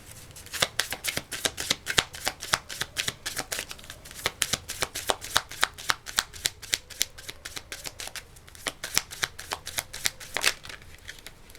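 Tarot cards being shuffled for a card reading, a close, fast run of crisp riffling flicks repeating steadily for several seconds with no talk.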